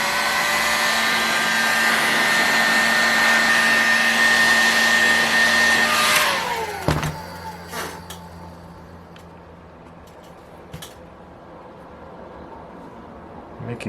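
A heat gun blows hot air onto the housing of an OS 61VF model engine during disassembly, with a steady, loud whirring rush for about six seconds before it winds down and stops, leaving quiet handling noises.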